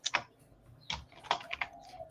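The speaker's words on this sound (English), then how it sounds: "the sound of a keyboard" Keys on a computer keyboard are tapped in a sparse, irregular run of soft clicks, close but quiet, with a few louder presses standing out and no voices over them.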